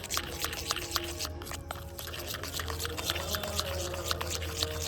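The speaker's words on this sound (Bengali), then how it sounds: "এবারে ভালো করে এইভাবে মিশিয়ে নেব।" A spoon stirs a watery homemade cockroach-killer mixture in a bowl, making faint, quiet clicks and liquid swishes in a steady, repeated rhythm.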